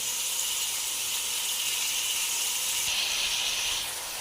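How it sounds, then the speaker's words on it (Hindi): Washed chicken necks and gizzards frying in a pan, giving a loud, steady hiss of sizzling oil close up that holds evenly throughout, without any talking. "गर्दन और पोटे डाल देंगे। अच्छे तरीके से इसकी हमने अच्छे से भुनाई करनी है, तकरीबन 4 से 5 मिनट।"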